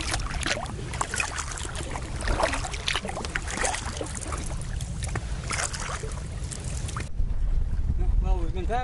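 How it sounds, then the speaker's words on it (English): A canoe moves along the Saint John River in Canada against steady wind, with broadband wind rush and water noise throughout and a voice briefly heard near the end. "we've been paddling nonstop for a while through a fairly steady wind"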